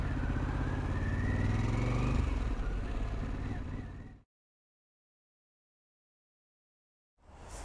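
A Harley-Davidson Pan America Special motorcycle engine under way, a loud, continuous rumbling drone that cuts out abruptly into silence before starting up again at the end.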